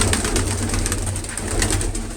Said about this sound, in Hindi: यही कबूतर है।